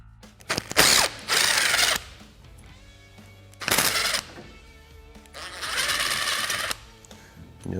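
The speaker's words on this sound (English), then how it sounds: "Let's come through and just remove each one of these Allen headed." Cordless impact tool whirring in several short bursts while removing Allen head bolts from the spare tire carrier clamps on a Honda Talon 1000X 4 Seater, loud and close with quiet gaps between.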